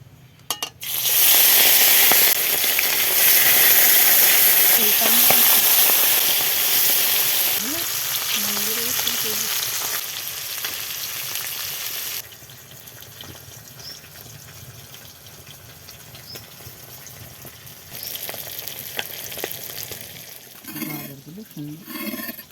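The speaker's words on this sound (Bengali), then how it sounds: "মাছগুলো এক এক করে গরম তেলে ছেড়ে দিচ্ছি।" Fish, hilsa and khoira, slide into hot oil and set off a loud, bright sizzle that dominates the first half, then eases to a quieter bubbling fry, with brief speech near the end.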